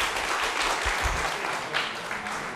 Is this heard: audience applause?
yes